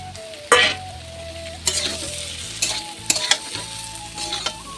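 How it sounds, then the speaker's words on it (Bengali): Potatoes fry in a pan, a continuous sizzle with loud bursts of stirring scrapes and clatter at irregular intervals, no voices present. "এই জায়গায় আলু ভাজতেছি।"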